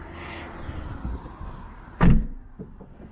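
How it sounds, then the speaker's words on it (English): A rear door of a Toyota-made Defender-style SUV is shut with a single solid thud after a stretch of quiet rustling, followed by a few faint clicks. "George, shut that back door and then come around the side"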